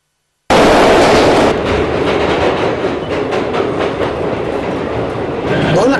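A metro train runs on rails with a steady, loud rumble and rhythmic clatter of the cars, filling the whole stretch after a sudden start.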